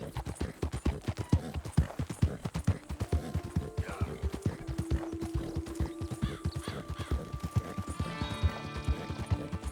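Horse hooves clip-clop in a steady galloping rhythm, close and loud, in Red Dead Redemption 2, with occasional whinnies and some tonal game sounds layered over the running.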